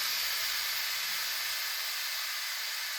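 An Ausker pressure cooker vents steam during risotto cooking, producing a loud, steady, continuous hiss that fills the clip alone.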